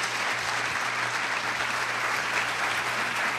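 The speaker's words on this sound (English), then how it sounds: "Let's give Mitchell a really nice round of applause." A high school assembly crowd gives steady, even applause for a student speaker named Mitchell, continuous dense clapping throughout with no voices.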